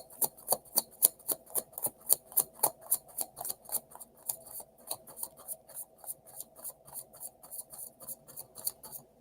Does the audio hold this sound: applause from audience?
no